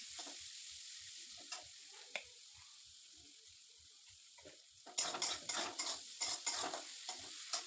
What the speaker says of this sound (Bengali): এরপরে ছোট ছোট টুকরো করা গাজরগুলোকে ফার্স্ট টাইম আমি দিয়ে নেব, সুন্দরভাবে লাল লাল করে ভেজে নেব।